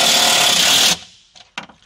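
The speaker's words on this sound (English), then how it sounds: "Drop in your supplied self-tapping screws and tighten down." A power tool whirs loudly for just under a second, driving a self-tapping screw during a poly vault install in a 2018 Ford Expedition, then stops, followed by a few faint clicks and a short rustle.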